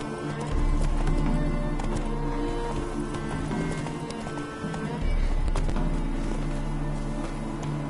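Roach the horse galloping in The Witcher 3, a steady drumming of hooves under a droning music bed, continuous and close throughout, with a voice speaking over it.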